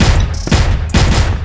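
Gunfire rattles out in a video game match, with rapid loud bursts of shots in close succession, punchy and near, and no talking over it.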